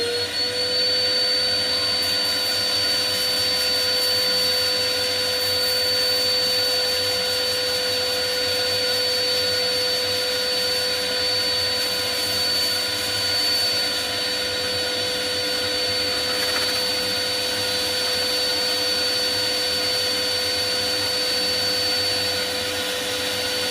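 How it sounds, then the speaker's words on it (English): Sanding an ash and resin bowl at 180 grit on a wood lathe spinning at 140, a continuous loud whirring hiss with a steady motor tone throughout, unbroken and without talk. "Just going to do a bit of sanding, and I'm starting at 180 grit and spinning at 140."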